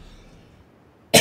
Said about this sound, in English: Excuse my coughing there